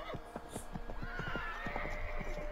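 Horse in the Assassin's Creed 3 video game neighing over a run of clip-clopping hooves, a short close whinny with steady hoofbeats throughout.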